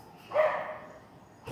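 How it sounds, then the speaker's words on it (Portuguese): A single dog bark with a short whining tail, out in a dark neighbourhood street during a power blackout, moderately distant, followed by a brief second sound. "os cachorros estão latindo aqui, bravo aqui, ó."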